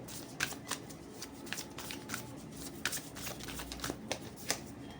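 Moonology oracle deck being shuffled by hand, a run of crisp, rapid card riffles and flicks in close, irregular bursts over a quiet room, with no talking.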